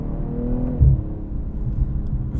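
A 2022 BMW M240i xDrive pulls hard under acceleration, its engine a low steady drone from inside the cabin with a brief upshift bump partway through, no talk over it.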